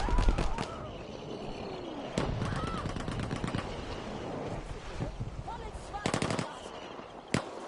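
Submachine gun fire from the ZK in the online shooter Frontlines: short rapid bursts and scattered shots amid a busy game soundscape, heard under talk.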